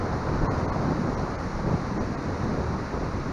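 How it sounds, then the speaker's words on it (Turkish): Strong wind roars steadily across the microphone, a constant broad rushing noise with slight gusts and no other clear sounds. "Çok rüzgar esiyor."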